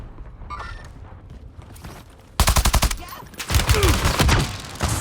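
Automatic gunfire in Call of Duty Warzone: a quiet start, then a sudden loud burst of rapid machine-gun shots followed by heavier overlapping fire and booms.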